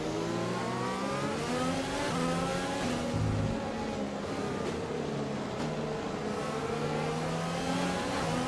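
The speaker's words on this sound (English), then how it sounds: "Lando's been passed then by the McLaren, by the Mercedes" Formula One Grand Prix cars, a McLaren and a Mercedes among them, roar past with high, whining engines that rise and fall in pitch, loud and continuous from start to finish.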